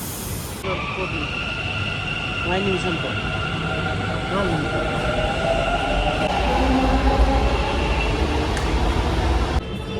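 A metro train pulls into JP Nagar metro station in Bangalore, a steady rumbling roar with rising wheel and motor whine that grows louder and nearer over ten seconds, with faint voices in the background.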